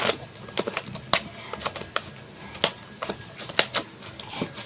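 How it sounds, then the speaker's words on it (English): Scissors snipping open the packaging of a ring binder, a run of sharp, close crisp cuts and clicks at an uneven rhythm, with no voices. "मुझे यहाँ पे भी मैंने scissor ले लिया है. Now let's cut it."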